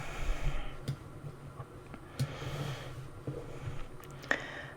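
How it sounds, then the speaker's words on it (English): Printed paper pieces cropped on a paper trimmer, giving a few sharp clicks and slicing snaps spaced irregularly over a quiet room background. "I'm just cropping them down with my trimmer just to get all of them with nice clean edges"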